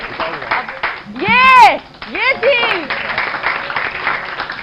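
Hands clap in a quick run of sharp beats on a television talk show, and a voice speaks over the claps midway through.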